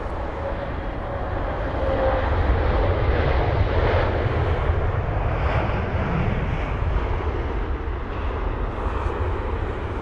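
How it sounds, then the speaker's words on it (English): A Virgin Atlantic Boeing 787-9 Dreamliner lands at London Heathrow, its jet engines a loud, steady roar that swells and then holds, broad and continuous, without speech over it. "There's that Virgin Atlantic 787."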